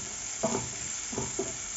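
Chopped onion frying in sunflower oil sizzles steadily and close up. Two quick stirring scrapes break through the crackle in this short moment.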